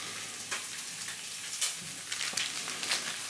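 Apple and onion caramelizing in a frying pan, a steady soft sizzle running throughout with small crackling pops scattered across it, no voices.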